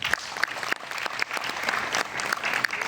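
A gathered audience at a company meeting applauds loudly and steadily to welcome first-time attendees, a dense, continuous wash of clapping close by.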